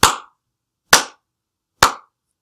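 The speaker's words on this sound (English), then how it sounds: "Everybody applaud." In a classroom, three sharp, isolated hand claps ring out at an even, slow pace, each one loud and close with silence between.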